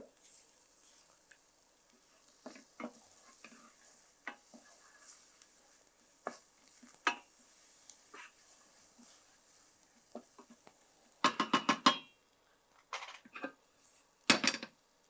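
Masala sautéing in oil in a pan for an egg curry with mint and coriander, with scattered soft sizzles, spoon scrapes and clinks, growing into louder bursts of stirring and pan clatter near the end.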